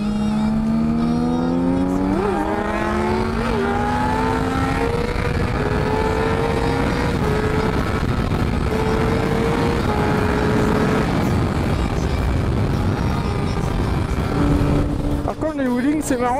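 A 2008 Kawasaki ZX6R motorcycle being ridden, its engine revving up and down through the gears with rising and falling pitch and a steady wind roar, loud and close throughout.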